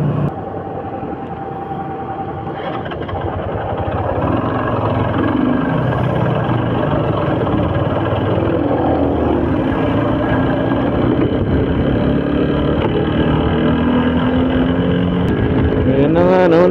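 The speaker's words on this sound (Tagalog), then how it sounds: "Nag-stop yung motor natin sa third." A motorcycle engine stuck in third gear while riding at about 60–65 kph near Paete, Laguna drones steadily and loudly throughout, with a continuous rushing, wind-like roar and no clear gear changes.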